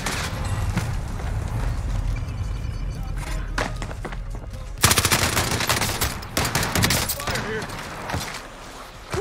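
Rapid automatic gunfire rattles through a battle royale match, dense bursts of shots close by, loudest in the middle with a sharp crackling volley, while a player talks over the shooting.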